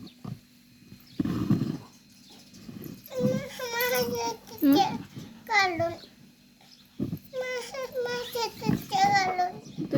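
A small child crying and whimpering in short bursts among wedding photos, near and fairly quiet, with an adult voice talking in between.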